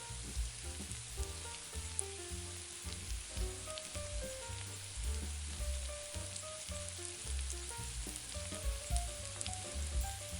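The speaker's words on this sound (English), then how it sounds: "Add 2 tablespoons of unsalted butter to the pan," Unsalted butter melts and sizzles in a pan, a steady close crackle with scattered pops and no voices.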